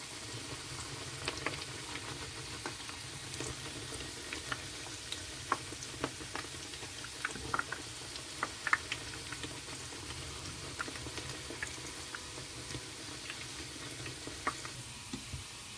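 Vegetable noodle nests for crispy fried noodles (mì xào dòn) crackle and sizzle steadily in hot oil, a dense continuous hiss dotted with sharp pops and ticks throughout, fairly close and with no talking.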